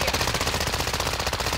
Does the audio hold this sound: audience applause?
no